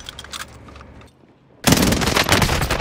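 Automatic gunfire in Call of Duty on Rebirth Island: faint scattered shots at first, a brief lull, then a sudden loud, close sustained burst of rapid fire that continues to the end, without voices.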